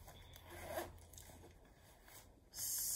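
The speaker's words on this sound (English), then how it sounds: "Let's go ahead and open up this back zipper" A back zipper slides open on a Vera Bradley small crossbody bag, a short close zip ending in a bright rasping pull, quiet and with no talk.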